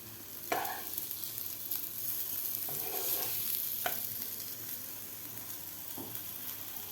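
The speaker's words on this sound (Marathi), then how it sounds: "बाकीचे सुद्धा आपल्याला अशा प्रकारे फ्राय करून घ्यायचे आहेत" Soybeans deep-frying in hot oil, with a continuous hiss of bubbling oil broken by a few distinct clinks and scrapes of a spoon against the pan, close and moderately loud.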